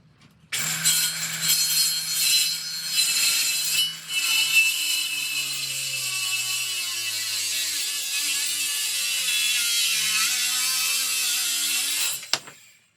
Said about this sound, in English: So I got to get this ceiling joist notched.